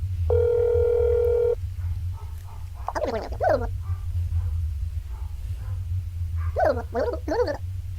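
A phone dial tone in the video game That's Not My Neighbor sounds once as a steady electronic beep over a low hum, followed by short bursts of high squeaky voice-like chirps.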